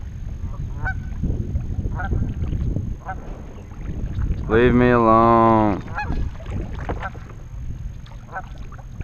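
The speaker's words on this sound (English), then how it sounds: "Stupid goose is about to attack me." A goose honks loudly and repeatedly in a burst near a kayak during bass fishing on the water, with someone talking before and after the calls.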